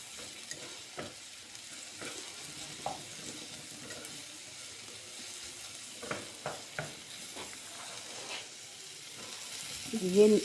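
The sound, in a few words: tomato and onion frying for omelette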